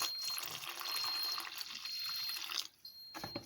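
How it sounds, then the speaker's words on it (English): Warm water poured bit by bit into a well made in chapati flour, a thin trickling stream that runs steadily, then breaks off into brief drips and splashes near the end. "And for the warm water, I'll be adding it bit by bit."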